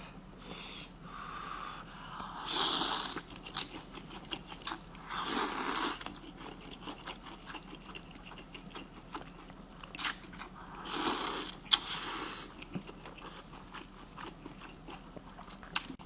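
Someone eats hot pot with fish and thin slices of fatty beef at home, making soft wet bites and chewing noises in close, intermittent bursts with quiet pauses between them.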